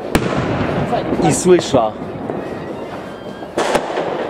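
New Year's Eve fireworks and firecrackers crack and pop steadily nearby, with sharp loud bangs standing out over the crackle, while a person talks over them.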